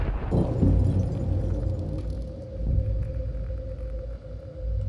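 A deep, sustained rumble from an atomic bomb explosion rolls on for several seconds, low and heavy like a distant huge blast, with a steady droning undertone and no voices.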